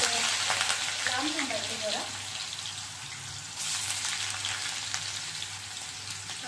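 Washed potatoes frying in hot oil, a loud dense crackling sizzle with spattering pops, briefly swelling and easing before carrying on steadily.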